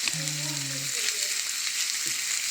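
Sliced onion frying in a pan for steak tacos: steady, close sizzling hiss throughout, with a brief spoken voice near the start.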